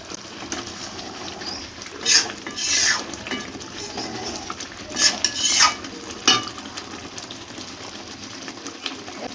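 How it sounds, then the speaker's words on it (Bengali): Jackfruit-chicken biryani with ghee being stirred in a pot, soft scraping and metallic clatter of a spoon against the pot in a few bursts over a quiet background, with birds faintly audible. "ঘি দিয়ে নাড়িয়ে নিয়েছি"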